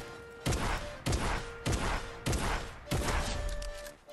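Gunfire in Fortnite: five sharp, evenly spaced shots ring out about half a second apart, each a loud crack with a short decaying tail, close and clear with no talking over them.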